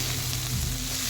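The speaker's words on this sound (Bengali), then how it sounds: "শাকটা কিন্তু আমার ভাজা হয়ে গেছে।" Radish greens frying in a pan at home, giving a steady, dense sizzle with no talk over it.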